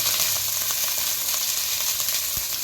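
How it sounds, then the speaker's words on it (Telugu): Boiled moringa leaves frying in a pan, a steady, close sizzle with crackling bits and occasional soft stirring clicks, continuous and even throughout. "ఇందాక ఉడకబెట్టుకున్న మునగాకు, ఇది కూడా మనం ఇలా ఫ్రై చేసుకున్నాం"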